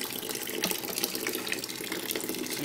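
Tap water runs steadily into a container while making homemade laundry soap, a continuous close hiss and splash with no talk.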